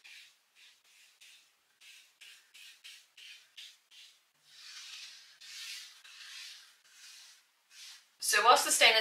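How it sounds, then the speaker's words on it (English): Wood stain is rubbed onto a handmade side table with a cloth in short, soft swishing strokes, some longer smooth wipes, and a louder scrape at the end. "I'm going to stain everything in Littlefairs Golden Oak."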